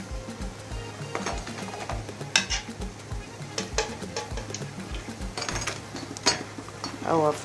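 Funkaso dough fries in hot oil, with a steady low sizzle under repeated utensil clinks and pan scrapes from stirring, all close by.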